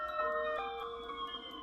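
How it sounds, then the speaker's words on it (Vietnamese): Ambulance and police car sirens wail together at a steady moderate distance, their tones overlapping and shifting briefly in a short burst with no talking. "bên tai vang lên tiếng xe cứu thương. Sau đó là tiếng xe cảnh sát."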